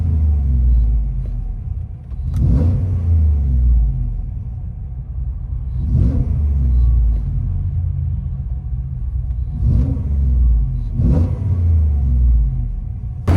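A cammed GMC Sierra Denali pickup with a 6.2-liter V8, headers and Valvetronic mufflers with the valves open, idles with a deep lumpy rumble and revs sharply four times, each blip loud and close.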